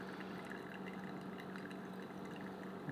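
Water pours from a Brewista Artisan stovetop kettle in a faint, steady, unbroken stream, heard close and alone throughout.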